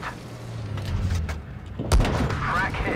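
A tank gun fires in World of Tanks Blitz, one sharp booming shot near the middle with a short rumbling tail, heard over continuous engine and battle background noise.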